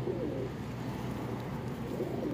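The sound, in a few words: pigeons cooing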